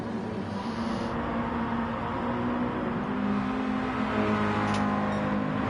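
A racing car engine revs hard and steadily while drafting in another car's slipstream on a straight in a racing video game, a loud, continuous whirring drone with a slight rise in pitch.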